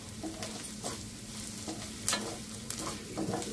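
Onion frying in a pan with a continuous soft sizzle while a spoon stirs it in several scraping strokes, close and moderately loud, without any voices.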